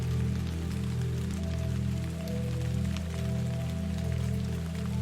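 Steady rain falls on a surface, a dense even patter with faint scattered drops and a low soft rumble underneath, continuous and moderately quiet with no voices.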